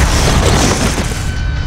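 A rocket launch explosion in the 2003 Hulk video game: a dense, loud, sustained boom with a rumbling roar that stays steady throughout.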